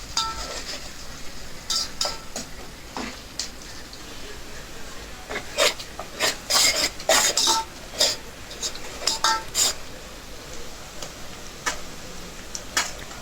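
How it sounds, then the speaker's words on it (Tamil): Onions being sautéed and stirred in a pan, with irregular metallic clinks and scrapes of a utensil against the cookware over a faint background hiss. No one speaks. "மிச்சம் வச்சிருக்கிற வெங்காயத்தை இதுல ஆட் பண்ணிக்கோங்க. பிறகு நல்லா வதக்குங்க."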